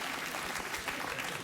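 A late-night talk show studio audience breaking into applause, a brief, full, steady roar of clapping from many people that fills the room evenly.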